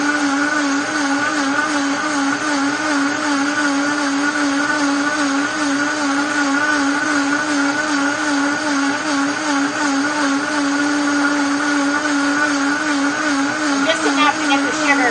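A blender running at its highest speed mixes vegan eggnog with sugar, a loud, steady whirring motor drone with a wavering pitch that continues for about fifteen seconds.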